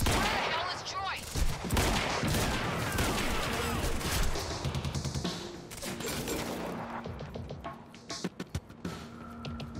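Rooftop firefight in the video game Quantum Break: dense bursts of gunfire and rapid automatic shots crackle throughout, loud and close, with shouted voices mixed in.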